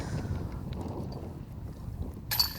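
Wind gusts across an open disc golf course during a women's pro tournament round, a low steady buffeting rush close to the microphone with a brief bright hiss at the end.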